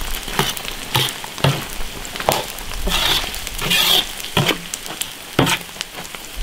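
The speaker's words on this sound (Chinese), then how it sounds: "一直炒，把这个油渣子给它炒糊。" Pork cracklings sizzle and crackle in hot lard in a wok as they are stir-fried with scallion and ginger, with a steady loud hiss and the spatula scraping and clacking at intervals.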